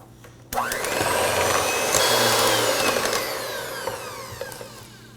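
An electric mixer whirs through brown sugar, molasses and vanilla in a bowl for a s'mores pumpkin pie, starting abruptly and holding a steady, fairly loud motor hum with a slowly shifting pitch.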